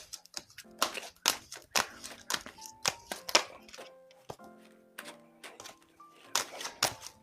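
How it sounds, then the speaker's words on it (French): Tarot cards gathered and shuffled by hand, a run of crisp slaps and riffling snaps close by in an uneven rhythm, with faint tonal chimes in the background. "Je vais remettre les cartes."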